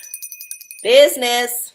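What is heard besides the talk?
ringing a bell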